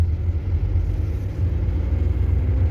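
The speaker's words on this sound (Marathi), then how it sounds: "नंतर न्यूट्रलमध्ये आलो, लेफ्ट साईड प्रेस करून मागे ओढला, हा सेकंड गिअर आहे." Car engine running while the driver shifts manually through the gears, a close, steady low rumble from inside the cabin with only slight variation, no voices.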